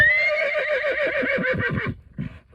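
On a cattle ranch in winter, a horse gives a loud, close, shuddering whinny lasting nearly two seconds, followed by a short snort.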